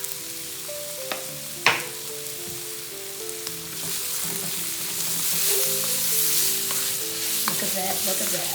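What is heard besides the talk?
Spanish mackerel frying and being stirred in pan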